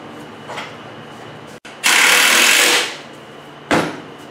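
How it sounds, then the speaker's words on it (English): A power drill pre-drills holes in wood while building a lathe stand, giving a short whir, a single sustained burst of about a second, and then another brief spin, all fairly close. "And I'm going to pre-drill these so that I don't split out the wood."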